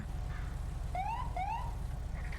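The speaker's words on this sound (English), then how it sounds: "It's the sound of the police." Police car siren in the video game GTA, two short rising wails in quick succession over a steady low engine hum, fairly close and clear.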